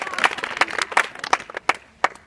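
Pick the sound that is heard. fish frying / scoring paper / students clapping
students clapping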